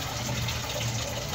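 Water pours steadily into a grinder jar in a continuous rushing splash, close and even in level, with no voices.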